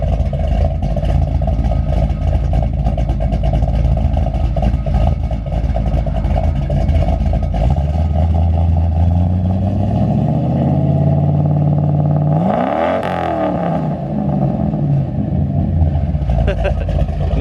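A 1974 Ford F250 Camper Special V8 fitted with an aftermarket cam idles with a steady low rumble, then blips its throttle once near the end, the revs sweeping up and settling back, with people talking close by throughout.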